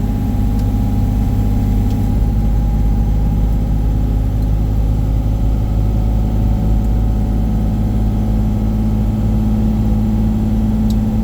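A truck's engine works steadily as it brakes down a long grade on I-17 in Arizona, giving a loud, constant low drone with no breaks and no voices.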